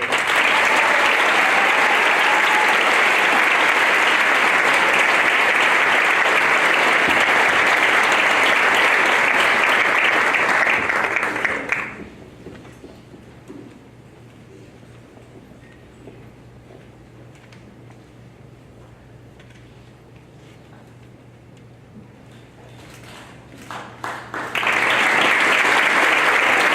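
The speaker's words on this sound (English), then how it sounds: "Please join me in a round of applause for Oak Hall's Male Athlete of the Year," Loud, dense audience applause at an awards convocation for Oak Hall's Male Athlete of the Year, a lacrosse player, that runs for about twelve seconds, drops to near quiet, then swells again at the end.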